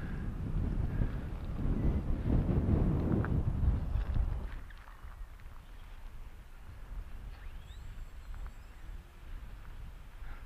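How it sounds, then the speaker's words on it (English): Strong, gusty wind blows across a hillside while a small foam thermal glider is flown, a loud roaring rush buffeting the microphone that drops off abruptly halfway to a quieter steady breeze. "Wind is a little bit too strong for it, really."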